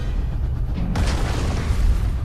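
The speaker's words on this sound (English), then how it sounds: "How about a Vorus mothership crashing at 10 Gs?" A Vorus mothership crashes in the sci-fi shooter Alien Rage, letting loose a loud, sustained roaring explosion that erupts partway through over a deep rumbling bed and keeps roaring to the end.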